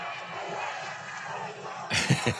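A crowd at a political event shouts in disapproval: a steady, fairly close murmur of many voices swells near the end into louder, uneven bursts of shouting.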